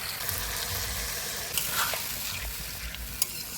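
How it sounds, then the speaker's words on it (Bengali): Broccoli cooking with sour curd in a pan gives a steady sizzling fry. Small pops and stirring scrapes rise briefly over the constant hiss. "এবার দিয়ে দিব জল।"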